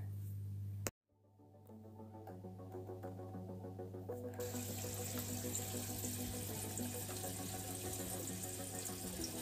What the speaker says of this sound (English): sucking up the gravel to get all the poop out and then letting it fall back down the tube